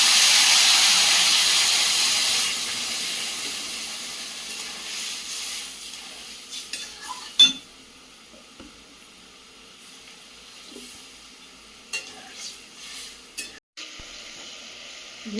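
Vegetables for a Bengali chorchori frying in a pan: a loud hiss of sizzling at first that fades to a quieter simmer, broken by occasional sharp clinks and scrapes of a utensil.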